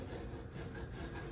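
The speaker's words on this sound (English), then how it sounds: "So now we'll go ahead and slide our bar" A metal lapping bar slides through scope rings with a faint, continuous rasping scrape, brief and quiet.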